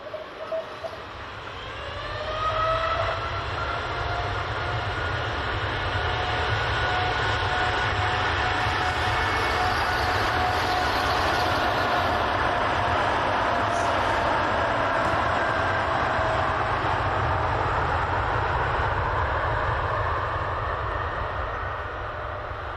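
A TUI Boeing 787 Dreamliner accelerates down the runway on its takeoff roll, the engine roar building after a few seconds into a loud sustained rumble with rising whining tones, heard alone without speech.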